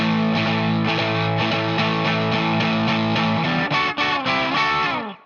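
Distorted electric guitar plays the closing phrase of a song, a thick sustained run of power chords that shifts, slides and rings out to a stop, loud and alone.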